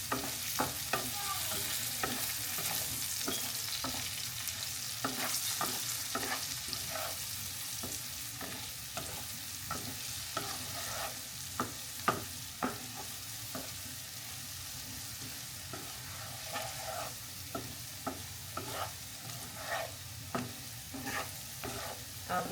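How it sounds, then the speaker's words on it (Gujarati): Potatoes frying in a pan with turmeric added, a continuous sizzle broken by regular scraping strokes of a spatula stirring them, close up and with no talking. "તો હવે આમાં મેં થોડીક નાખવાની છે હળદર, કેમ કે બટેટા કૂક થઈ ગયા છે તો હળદર નાખી દઈએ."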